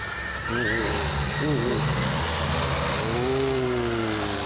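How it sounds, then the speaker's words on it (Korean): Delivery drone lifting off and flying over the sea, a steady droning motor whine with rising and falling pitch sweeps, close and continuous. "치고 이제 드론 날리신답니다."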